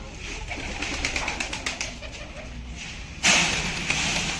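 Pigeons coo near a feeding spot where mixed grain feed is being put out, soft repeated coos running throughout and a brief louder burst of rustle or wing flutter toward the end.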